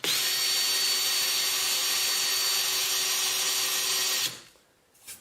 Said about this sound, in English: I got a drill that looks like it should be big enough